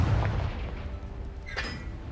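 Confringo blasting spell from Hogwarts Legacy goes off as a short, deep boom at the very start, then fades into quieter in-game ambience with a faint sharp crackle near the end.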